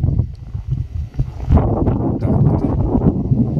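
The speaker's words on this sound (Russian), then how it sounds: "Ветер не стихает." Strong wind blowing outdoors in a snowy Southern Ural village, gusting and buffeting the microphone in uneven rumbling bursts, with a brief spoken word at the start.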